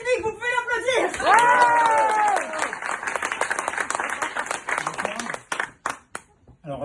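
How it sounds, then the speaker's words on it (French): A stand-up comedy crowd in Strasbourg claps after a brief technical problem, the applause swelling then thinning into scattered claps and fading, with some voices and sound mixed in early on. "vous pouvez l'applaudir."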